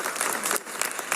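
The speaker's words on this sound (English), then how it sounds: "Let's give these folks a big round of applause." A dense burst of audience applause fills a city council meeting in Atlanta, many hands clapping steadily and close together for just over a second with no speech on top.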